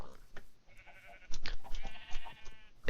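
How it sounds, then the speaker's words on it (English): A sheep in the video game Minecraft bleats a few times amid game sounds, with someone talking over it. "Get out of here, sheep."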